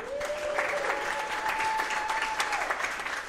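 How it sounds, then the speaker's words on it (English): A live podcast audience in Portland applauds in a dense, continuous wash of clapping, with a sustained tone running beneath it for most of the stretch before fading out. "give yourselves a round of applause"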